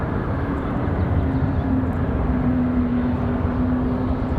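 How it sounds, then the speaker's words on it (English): Steady, loud engine drone of a JetBlue Airbus A220 airliner taxiing on the ground at Raleigh-Durham airport, an even roar with a faint whine rising slightly, continuous throughout with no talk. "JetBlue A220 on the move."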